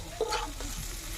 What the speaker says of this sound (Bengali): মশলাটা দিয়ে দেবো, নাড়াচাড়া করে নেব।